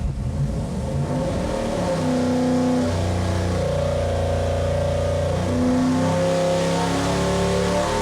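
A high-revving 347 V8 built for a sleeper Ford Granada roars through a dyno pull from about 3,500 to 6,000 rpm, its loud, steady note climbing in pitch over eight seconds with no voices.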